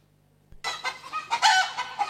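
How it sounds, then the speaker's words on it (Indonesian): A hen clucks in a rapid, uneven run of squawking calls, loud and close, starting abruptly after a moment of near silence. "Coba kita dengarkan ya ayam betinanya."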